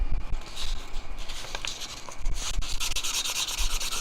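Close, steady rubbing of 600-grit sandpaper on a metal serving spoon being turned into a fork, a fine continuous gritty rasp with slight surges in intensity.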